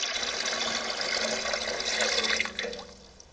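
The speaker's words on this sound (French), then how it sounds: "On ajoute l'eau. De l'eau du robinet froide tout à fait ordinaire." Cold tap water pours into a container holding salt for a trout brine, a steady splashing rush that tapers off at the end.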